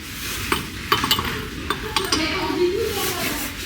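Dishes and tableware clink as they are handled in a home kitchen, giving scattered light knocks and chinks at irregular moments over a faint background hiss, with soft talking now and then.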